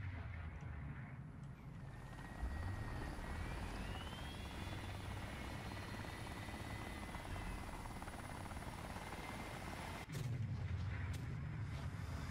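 A Mi-8 transport helicopter in a military video game drones loudly and steadily close by, its rotor roar constant for several seconds, with a brief dip and then a renewed surge near the end.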